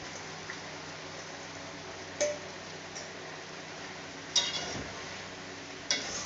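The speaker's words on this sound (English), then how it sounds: "Stir it to incorporate all that ingredients that we have in the pot." A spoon stirs seasoned rice and other ingredients in a cooking pot, giving a few sharp scrapes and clinks against the metal over a steady low simmering hiss.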